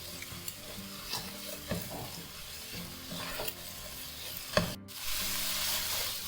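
Crushed garlic, ginger and green chilli are sautéed in a pan for Malabar king fish biriyani, a soft steady sizzle broken by repeated scraping stirs and a sharp clank near the end.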